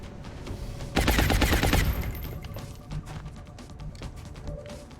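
A loud, rapid burst of suppressing automatic gunfire in XCOM Long War hammers out for about a second, then gives way to quieter scattered game sounds and softer follow-up shots.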